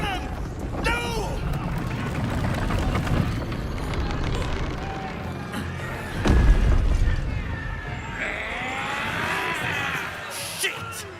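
Cannon fire during a battle at a gate in Baldur's Gate 3, a heavy boom rising out of a dense mix of game noise and shouting voices about midway through.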